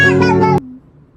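A single loud, close cat meow, clearly voiced and lasting about half a second, ends abruptly and leaves near silence behind it.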